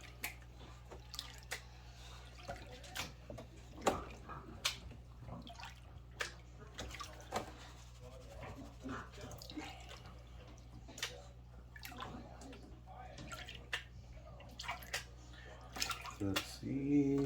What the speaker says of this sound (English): Shake it, shake it, shake it, shake it, shake it. Let's get the panning.